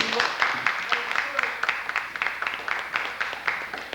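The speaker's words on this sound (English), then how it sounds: "Give her a round of applause." A crowd at a jazz and poetry event claps in dense, steady applause, moderately loud, with a few voices mixed in.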